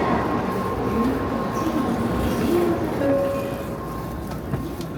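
Steady low rumble and hum fill the cabin aboard a Shinkansen bullet train in Japan, a continuous ride noise at a constant level with faint tonal whines drifting over it.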